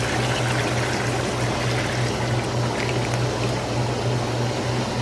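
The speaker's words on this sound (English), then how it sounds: "we're going to press pump 1 and we're going to turn on our jets." A Coldtub cold plunge tub's pump and jets run with water, giving a steady rushing, churning wash over a constant low mechanical hum, unbroken and with no voices.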